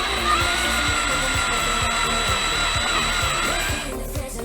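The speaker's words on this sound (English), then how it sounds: "I'm gonna have to drill first." Power drill running continuously while drilling into a boat fitting during a refit, a steady loud whirring motor with a rhythmic pulsing undertone, briefly shifting near the end, no talking.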